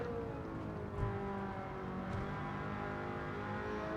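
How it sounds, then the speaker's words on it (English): Alfa Romeo 8C engine on overrun in third gear in Gran Turismo 7 on the Tokyo Expressway, a steady loud droning exhaust note with slight rises and a couple of soft bumps, continuous and alone. "Listen to that overrun in 3rd gear there as you come off the power."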